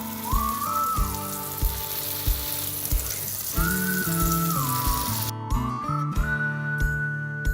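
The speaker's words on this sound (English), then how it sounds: "So once you can hear them sizzling away" Sweet potato and beetroot patties sizzle steadily in a frying pan, a continuous close crackling hiss with occasional soft clinks, while a high whistling tone rises and falls over it.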